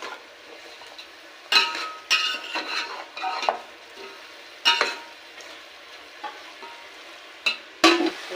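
A spoon stirs chicken curry masala with salt and turmeric in a pan, making irregular scraping and clinking strokes over a faint, steady sizzle.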